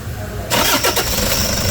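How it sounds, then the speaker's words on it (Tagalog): Toyota Hiace engine starts up, a short cranking burst that quickly catches and settles into a loud, steady running rumble, close by with no talking. "Okay, i-start natin."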